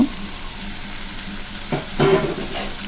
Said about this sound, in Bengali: তো সুন্দর করে একটু কষিয়ে নেব।